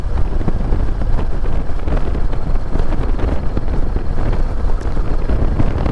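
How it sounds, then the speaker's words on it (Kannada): Loud, constant wind roar buffets the microphone while riding a BMW G310GS motorcycle toward Penukonda Fort, a dense rushing noise with no pause over the whole stretch. "ಇವಾಗ ಒಂದು ಸ್ವಲ್ಪ ಗಾಳಿ ಬರೋಕ್ಕೆ ಸ್ಟಾರ್ಟ್ ಆಯಿತು"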